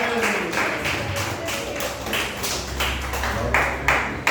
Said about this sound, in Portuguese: as palmas que glorificam o nome do Senhor